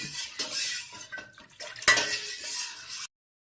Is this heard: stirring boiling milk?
yes